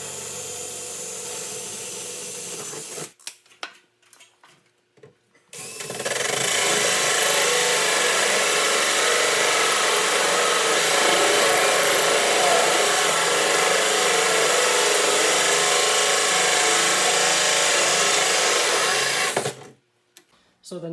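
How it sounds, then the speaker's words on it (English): A power drill fitted with a 1.5 inch hole saw cuts steadily through wood for about fourteen seconds, a loud, continuous grinding rasp after a brief startup burst and pause, then stopping abruptly. "So I'll be using that hole saw."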